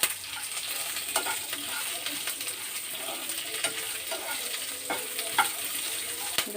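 Tamarind is stirred and fried in hot oil in a pan for a nalleru stem chutney, giving a steady close sizzle with scraping stirring strokes and occasional sharper pops.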